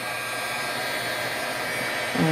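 A heat gun blows hot air onto the back of a handmade card, a steady close whooshing roar lasting the whole moment, with a slight shift in tone just at the end.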